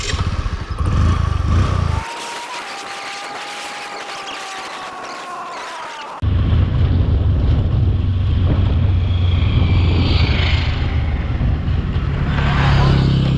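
A 2012 Bajaj Discover 100 motorcycle with a five-speed gearbox rumbles as it rides, buffeted by heavy wind noise, with a quieter stretch in the middle before the loud engine drone and wind return.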